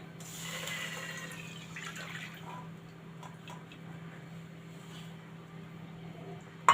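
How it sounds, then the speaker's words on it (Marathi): A cup of full-cream milk poured into a pan of melted ghee over a low gas flame gives a soft, faint liquid pour that fades, over a low steady hum. "आता इथे तूप आपलं विरघळलेलं आहे त्याच्यामध्ये मी एक वाटी दूध घालत आहे"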